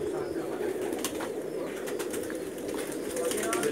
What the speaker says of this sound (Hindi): हज़ारों की तादाद में कबूतर हैं इनके पास माशाल्लाह